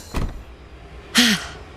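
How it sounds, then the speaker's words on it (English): Subway train doors shut with a quick thud followed by a sharp clattering slide and chime-like squeal, heard close and alone against low ambient rumble. "Subway doors closed, no turning back now."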